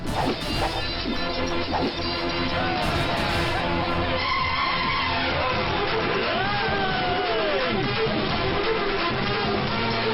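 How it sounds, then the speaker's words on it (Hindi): A car skids and crashes in a Hindi movie fight scene, a loud, dense burst of smashing and skidding with a rising tire-squeal sweep midway, all over a constant wash of music and effects. "गाड़ी रोको।"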